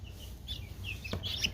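Young African guinea fowl keets give thin, high chirping calls, a few short peeps close together over a low background hum.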